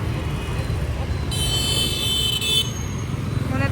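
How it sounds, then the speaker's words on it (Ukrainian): A short car horn toots from street traffic in Vietnam as pedestrians cross at a crosswalk, a brief bright honk over a steady roadway rumble, with a voice talking nearby. "такі наглі, навіть на пішоходному нам сигналять"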